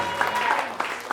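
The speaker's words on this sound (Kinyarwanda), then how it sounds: "Komera Imana amashyi mu izina rya Yesu." Church congregation clapping during a worship service, a brief burst of applause with scattered louder claps amid general crowd noise.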